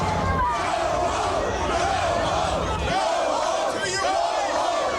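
A crowd of Seattle residents in a police standoff during the 1999 World Trade Organization protests shouts loudly in rising and falling chants, with dense massed voices filling the scene.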